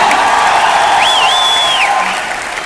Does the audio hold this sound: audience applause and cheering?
yes